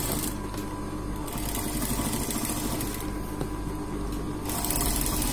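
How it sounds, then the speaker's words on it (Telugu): A sewing machine runs steadily, stitching along the neck edge of a boat-neck blouse with a continuous mechanical whir that briefly lightens in pitch at moments, close and alone without speech. "దీన్ని తిరగేసి ఇలా ఈ ఎడ్జ్ మీద కుట్టేయాలి"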